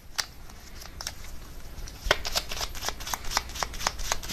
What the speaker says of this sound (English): let me get one more card to clarify the Knight of Pentacles